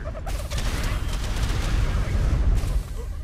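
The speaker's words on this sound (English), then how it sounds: "sometimes a dodo explosion can push another explosive dodo towards you." Explosive dodos blowing up in the video game Ark: dense, rumbling blasts and crackling booms that run together into a loud, continuous roar, with sharper bursts near the start and middle.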